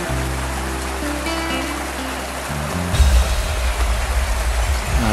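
Thác Trắng Minh Long, a large waterfall on the upper Phước Giang river in Quảng Ngãi, roars in a steady, loud, continuous rush with no talk, the texture shifting slightly partway through.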